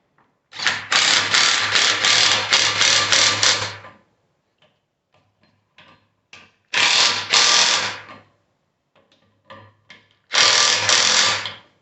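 A ratchet wrench tightens bolts on the rear axle of a 1980 Triumph TR7, heard as three close, loud bursts of rapid clicking separated by quieter pauses with scattered small knocks and tool handling.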